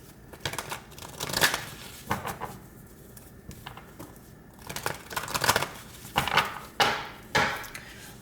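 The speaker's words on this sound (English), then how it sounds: "2 more shuffles." A deck of tarot cards is shuffled by hand at close range, giving soft riffling bursts and papery flutters in irregular clusters with short pauses between them, quiet and without talk.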